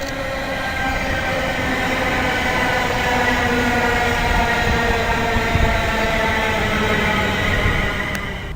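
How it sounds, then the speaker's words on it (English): Train at Birmingham International station on the Birmingham New Street to London Euston service, a steady rolling rumble with faint wheel and rail noise throughout, continuous and fairly close, no talk. "This is the 15:45 service from Birmingham New Street to London Euston"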